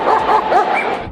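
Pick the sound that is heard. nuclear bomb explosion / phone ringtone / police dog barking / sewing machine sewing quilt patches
police dog barking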